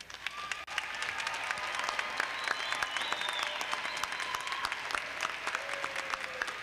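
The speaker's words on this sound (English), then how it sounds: "Please take a moment to thank them with a big round of applause." Commencement audience at a University of Northern Colorado fall graduate ceremony breaks into sustained applause, a dense, even wash of many hands clapping with a few whistles and cheers across the hall.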